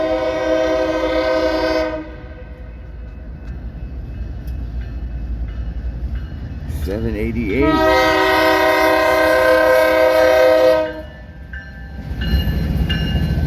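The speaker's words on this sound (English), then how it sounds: "These are BNSF ballast cars." BNSF ballast train rolling past with a loud multi-tone horn blast at the start and again mid-clip, the rumble of the cars continuing underneath and a brief spoken word near the middle.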